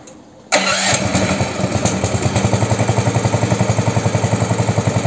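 A vehicle engine cranks over and catches during a night shift of concrete work, settling into a loud, steady, rapidly pulsing idle close by.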